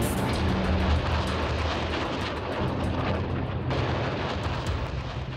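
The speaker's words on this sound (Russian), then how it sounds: "Помимо самоходных были созданы и стационарные пусковые установки. Дальность стрельбы составляла от 3 до 8 километров." A dense, roaring barrage of Katyusha rocket launcher fire, loud and continuous, with rumbling low booms and hissing bursts layered throughout, no voices.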